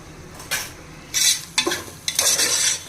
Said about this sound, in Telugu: ఇవి ఒక పదిహేను అలాగా తీసుకుని వేసుకోవాలండి వేగాలన్నమాట